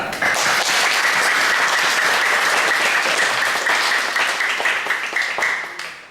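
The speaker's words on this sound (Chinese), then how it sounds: "我们首先先给上帝一个赞美，一个拍掌" A church congregation claps together in sustained applause, a loud, dense wash of hand claps that carries on for about six seconds before beginning to thin out.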